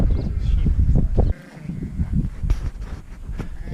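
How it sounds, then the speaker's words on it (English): Sheep bleating in a Karoo farm setting near Sutherland and Williston, a few wavering calls over rumbling wind or handling noise, moderately close, with quieter stretches between the bleats. "There's sheep inside."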